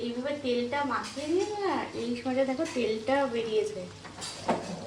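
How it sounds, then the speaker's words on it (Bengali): Hilsa fish sautés in a little oil in a pan, giving a low sizzle with stirring and scraping of utensils, under a person talking throughout. "এটাকে তেল দিয়ে কষিয়ে নেওয়া হচ্ছে"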